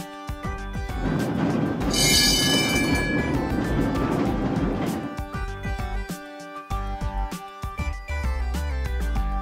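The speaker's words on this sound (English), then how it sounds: "Streetcar." A streetcar rolls along its rails, a steady, loud rumble with a brief bright squeal early on, followed by a few sparse knocks and clatters and a low hum toward the end, with no one talking.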